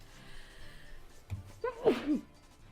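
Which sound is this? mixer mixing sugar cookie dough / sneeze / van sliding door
sneeze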